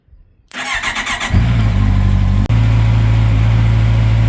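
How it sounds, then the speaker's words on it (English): A 2021 Honda CB650R motorcycle engine cranks and catches, then settles into a steady, loud idle nearby as it warms up, with a brief dip partway through. "So I'm just going to turn on the bike and let it warm up for a bit"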